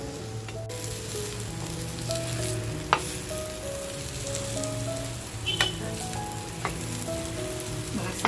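Chicken rolls fry in a hot pan with a loud, steady crackling sizzle while they are turned one by one, marked by several brief clinks and scrapes of the utensil, close up, no speech.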